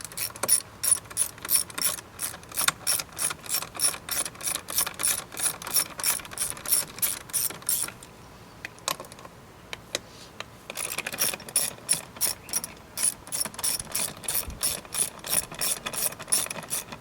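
A hand ratchet removes the 8mm screws from the seat cover on a third-generation Honda Odyssey second-row seat, clicking in fast, steady bursts that pause briefly midway, close and alone.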